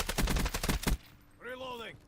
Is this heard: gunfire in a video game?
yes